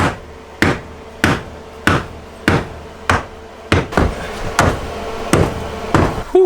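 A metal bar strikes a Toyota Tacoma cab about ten times at a steady pace, each a loud clanging bang with a short ringing decay.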